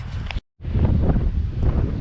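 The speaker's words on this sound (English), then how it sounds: "It's hella windy" Strong wind roars steadily through a forest near a swamp, buffeting the microphone, with a brief dropout before the gusting resumes.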